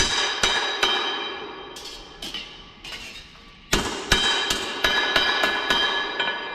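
A machine at a barrel-making station flattens the rivets of whisky barrel hoops: about a dozen sharp metallic strikes at uneven intervals, each ringing briefly, with quieter gaps between bursts and no talk.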